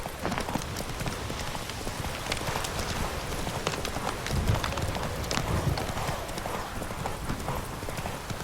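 Geralt's horse Roach from The Witcher 3 gallops in a steady, fast clip-clop of hooves that holds throughout, with a faint patter like rain underneath.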